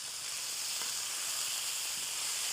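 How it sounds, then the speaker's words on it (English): Beef sizzles steadily in a very hot pan for a stir-fried teriyaki dish, a continuous bright hiss with faint crackles and no voices. "So I'm gonna add my beef to the pan."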